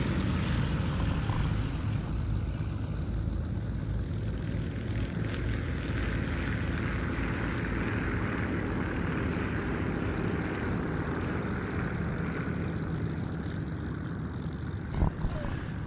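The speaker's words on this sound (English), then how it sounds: "Always a really distinctive engine note accompanying these yaks." A Yak-18T with a Vedenyev M14PF nine-cylinder radial engine flies during a formation display, its steady droning engine note continuous and fairly distant throughout, with faint commentary underneath.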